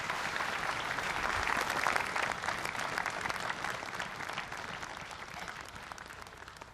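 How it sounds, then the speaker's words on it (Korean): A large audience applauds at an Armed Forces Day ceremony at Gyeryongdae for award-winning military units. The clapping is a dense, steady wash that fades slightly toward the end, with no talk over it. "오늘 대통령 부대 표창을 수상한 9개 부대에게 다시 한번 축하의 박수를 보내주시기"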